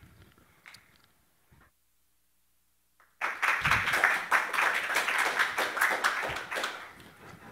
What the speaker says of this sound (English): I like that you clap.